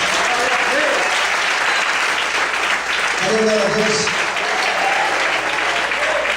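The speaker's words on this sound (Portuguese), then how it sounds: "Você pode aplaudir ao Senhor nessa noite?" A church congregation applauds the Lord during an evening worship service, with dense, steady clapping throughout and a voice speaking over it.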